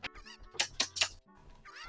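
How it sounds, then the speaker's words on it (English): Chickens (cuccos) in the video game Zelda: Ocarina of Time cluck and squawk in a quick burst of several sharp, bright calls, fairly faint and alone. "That's a lot of chickens."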